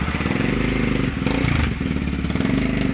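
A motorcycle engine runs steadily close by, idling with a rough mid-range throb and a brief rise in revs partway through, alone with no talk over it.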